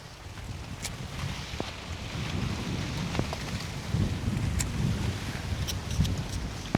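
Steady wind rumbling and buffeting against the microphone, with occasional faint clicks and knocks in the background.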